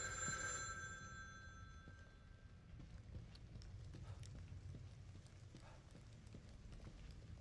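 A phone rings in the horror video game The Evil Within 2, a bright electronic trill lasting about two seconds, then fading into low, rumbling game ambience with soft clopping steps.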